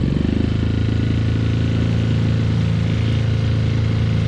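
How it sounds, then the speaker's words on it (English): A 6hp Tohatsu outboard motor idles steadily nearby in -5C winter cold, its low, even rumble holding a constant pitch with no revving throughout. "why you need to have idle running well on your outboard"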